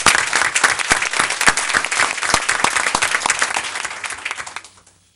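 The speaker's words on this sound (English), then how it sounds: "Let's give Kim a round of applause." A burst of enthusiastic applause from a crowd at a school board meeting, dense rapid clapping that holds steady for several seconds before quickly dying away.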